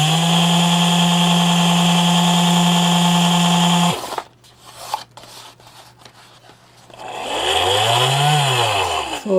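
Small DC motor on an Arduino test bench, driven by an H-bridge motor driver: a loud steady high whine that cuts off abruptly, then quiet clicks and rattles, followed by the whine rising and falling again as speed changes.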